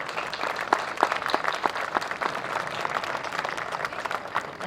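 An outdoor crowd at a town square park reopening applauds the park commissioners, a dense sustained round of clapping with sharp individual claps poking through.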